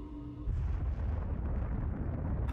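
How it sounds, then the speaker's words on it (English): A nuke detonating in the video game Assassin's Creed II: after a faint tone, a sudden deep rumbling blast that sustains as a heavy, loud low roar to the end, with no speech. "I think I've just detonated a nuke."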